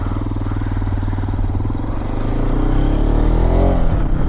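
A Hero Xpulse 210 motorcycle engine runs loud and close, its steady throaty drone rising in pitch as the throttle opens toward the end.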